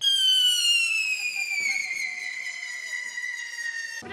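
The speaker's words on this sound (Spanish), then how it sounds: "Los más jóvenes del lugar acompañaron a este toro con petardos y bengalas." A loud whistling firework shrieks with a steadily falling pitch for several seconds, broken by a couple of sharp pops, with no voices, at a bull street festival in Yepes.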